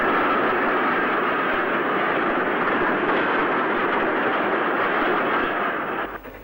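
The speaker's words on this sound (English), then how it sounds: "A Castle speeds through for Birmingham Snowhill, before an 8F with Fowler tender heads south for Hatton Station with a civil engineers train." A 1960s steam locomotive, a Castle class and an 8F with Fowler tender hauling a civil engineers train, roars past at speed, a loud, sustained rushing rumble that fades slightly at the very end.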